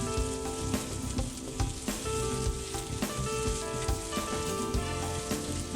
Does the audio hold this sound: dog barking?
no